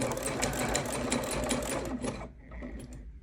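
An older, sturdy sewing machine stitches a rope bowl, running in a steady loud whir for about two seconds before stopping, leaving faint handling noise.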